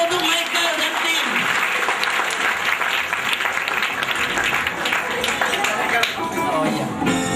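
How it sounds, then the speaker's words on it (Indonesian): Audience applause at a children's revival service, greeting Michael and his team after they play and sing; dense clapping fills the whole stretch with talk and noise mixed in. "Ayo tepuk tangan untuk Michael dan tim."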